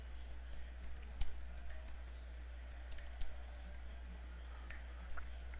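Light, faint keyboard typing on a computer, scattered key clicks spread over a steady low hum with no talk.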